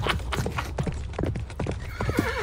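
A horse gallops with quick, steady hoofbeats and whinnies near the end, loud and close throughout.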